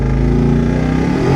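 Twin-turbo Ford Mustang 5.0 with a built 6R80 automatic transmission pulling hard, a loud close engine note rising steadily in pitch as it accelerates, with no voices.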